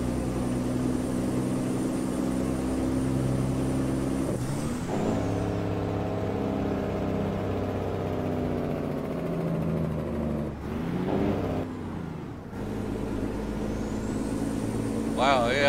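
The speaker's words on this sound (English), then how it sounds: "AI traffic is really crazy tonight" Heavy road traffic in a truck-driving video game, with loud, continuous engine and tyre drone from trucks and cars, punctuated by pitch sweeps as vehicles pass and hissing air-brake bursts.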